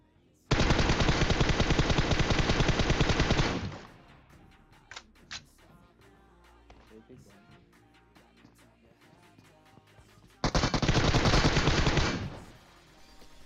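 UMP-45 submachine gun in the mobile game PUBG Mobile fires two long rapid automatic bursts, loud and close, separated by a quieter stretch holding a few faint scattered shots and clicks.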